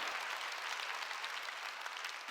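A church congregation claps during a Korean sermon, a steady wash of applause filling the whole moment with no pauses and no talk over it.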